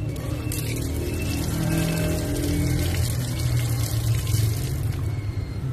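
Strong stream of water rinsing engine-oil cleaner off a motorbike part in a repair shop, a continuous loud splashing hiss with no talk over it.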